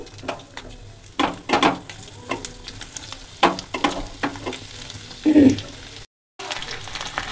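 Chopped ginger and garlic fry in a kadai for a chili soyabean dish, giving a sizzle broken by loud scrapes and clanks of stirring, with short pauses in between.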